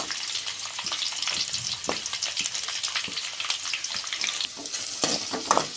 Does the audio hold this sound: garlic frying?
yes